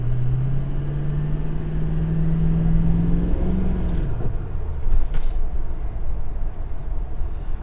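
A 6.0 Powerstroke diesel truck engine fitted with a GXR7 turbo runs steadily close by, a rising turbo whistle climbing over the low engine drone, then a sharp hiss of air release about halfway through.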